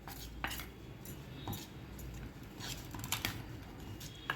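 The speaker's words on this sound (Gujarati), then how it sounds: "હવે આપણે બધો મસાલો પહેલાં મિક્સ કરી લઈએ આમાં" Spices are mixed into leftover rice in a pan, with soft scraping and light metallic clinks of a utensil repeating irregularly at low volume, no voices.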